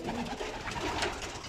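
Pigeons coo softly inside a loft on a cold day, their low murmuring calls faint and close, with rustling in the background and no talking.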